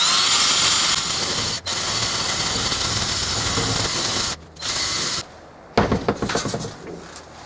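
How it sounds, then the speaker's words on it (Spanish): A power sander grinds steadily against rusty metal on an ICP Savannah S aircraft, loud and close, then cuts out and restarts in shorter bursts with rattling pauses. "Y le vamos a volver a lijar."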